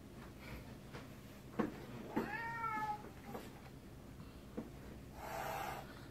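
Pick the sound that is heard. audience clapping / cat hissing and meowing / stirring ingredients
cat hissing and meowing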